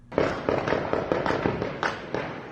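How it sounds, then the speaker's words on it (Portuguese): Gunshots ring out during a dawn police operation in a Brazilian community, a rapid irregular volley of about ten sharp cracks over roughly two seconds, heard at moderate distance with no talk. "Ainda estava amanhecendo quando o tiroteio começou."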